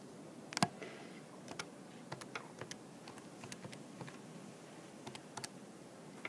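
Calculator keys pressed one after another while entering an inverse sine calculation, a quiet run of sharp, separate plastic clicks at an uneven typing rhythm, close by and alone.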